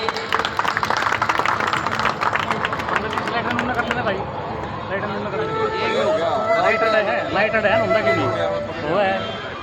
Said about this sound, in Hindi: तालियां चाहूंगा मैं सभी से।